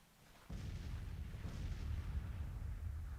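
Artillery fire in the Civil War strategy game Grand Tactician: The Civil War, starting abruptly after a brief quiet moment and settling into a sustained low, rumbling barrage with muffled booms rolling on continuously.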